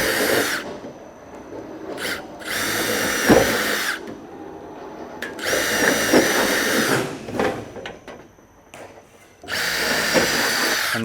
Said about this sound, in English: I can flip it over and drill all my other holes out